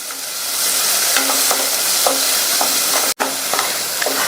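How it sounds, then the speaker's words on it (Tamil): Chopped onion sautéing in butter in a soup pot, a loud continuous sizzle broken by regular spoon stirring knocks and scrapes against the pan. "இந்த வெங்காயத்தையும் லைட்டா ஒரு 30 செகண்ட்ஸ் போல வதக்கினா போதும்."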